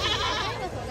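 A goat bleats briefly and fairly close at the crowded Deonar goat market, with one short wavering call over busy background noise.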